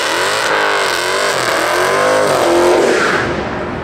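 A manual car pulls away with a loud, close engine rising steadily through revs, the tone climbing and easing as it accelerates off, with no talking over it.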